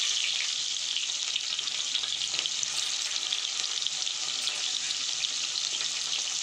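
Onions frying in hot oil in a pan, a steady bright crackling sizzle that holds evenly throughout with no talking.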